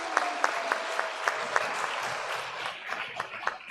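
Congregation applauding inside a synagogue during a Shabbat service, a steady patter of many hands with a few sharper individual claps standing out, lasting a few seconds at moderate loudness without speech.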